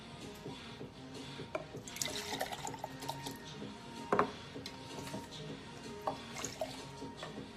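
Chia seed pudding mixture is poured into a container in a kitchen, with soft wet splashes and drips, a sharper clatter midway, and faint background sounds.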